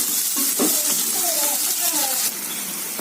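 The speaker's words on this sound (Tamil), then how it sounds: "வெங்காயம் பாதி வதங்கிருச்சுங்க இன்னும் நல்லா வதங்கணுங்க" Onions sauté in hot oil in a pan for a chicken dish, giving a loud, continuous sizzle with stirring, close up while someone talks over it.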